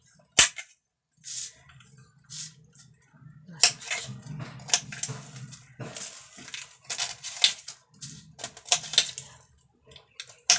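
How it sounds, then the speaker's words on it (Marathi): Garlic cloves being tapped against a surface to loosen their skins in a home kitchen, a series of sharp, irregular close knocks and clicks in quick clusters with quiet gaps, no talk. "असं टुचकी मारायची खाली, पटकन निघते लसूण"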